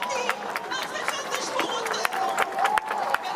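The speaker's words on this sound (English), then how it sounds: "Cheering from the crowd around them" Crowd cheering and clapping around the handover of Israeli hostages released by Hamas to the International Red Cross in Gaza, a steady dense roar with scattered sharp claps and shouts, fairly loud and continuous.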